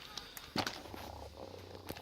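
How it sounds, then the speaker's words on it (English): A robot cat toy (Joy For All B7592, orange) in mute mode gives a soft, steady low purr that hums continuously and quietly, with a few faint clicks and rustles over it. "but it's still purring. It just won't meow."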